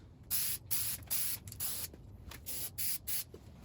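Plasti Dip rubber coating sprays from an aerosol can onto a car emblem in about eight short, close hissing bursts, each lasting around a quarter to half a second, with faint background noise between them.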